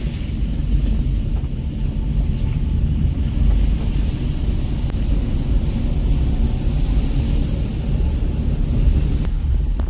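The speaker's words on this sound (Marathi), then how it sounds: "आता तुम्ही धबधबा फक्त बघा" A village waterfall beside a rural path gives a constant, loud, broadband roar that stays steady and unbroken for the whole stretch, mixed with wind rumble on the microphone and no talk.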